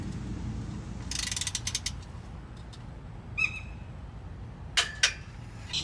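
A torque wrench tightens oil pan bolts to 20 foot-pounds, giving a few short ratcheting clicks followed by sharp click bursts as each bolt reaches torque, heard against quiet background noise.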